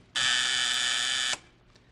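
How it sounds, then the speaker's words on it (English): A door buzzer sounds once in an old-time radio detective drama, a loud, steady electric buzz held for just over a second, then cut off abruptly. "did you just want to see if the buzzer works?"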